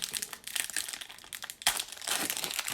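Close, crisp crinkling and crackling as a Pokémon card pack wrapper is handled and torn open, bursts of rustling with a sharper rip partway through, alone without speech.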